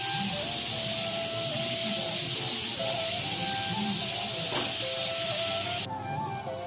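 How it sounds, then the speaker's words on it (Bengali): Jackfruit and potato pieces fry in a hot pan, giving a steady, close oil sizzle and hiss that runs without a break, with faint household clatter behind it and a slight drop in the sizzle near the end. "কাঁঠালটা ভালোভাবে ভেজে নিচ্ছে"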